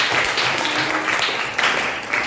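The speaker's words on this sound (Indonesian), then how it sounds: "Tepuk tangan untuk semuanya." A classroom of students claps together in a steady, dense burst of applause that fills the short span at an even, fairly loud level.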